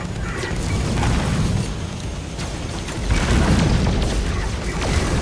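Space pirates fire on a ship during a No Man's Sky survival battle, with rapid booming blasts and pops rolling into a dense, loud barrage that continues without a break.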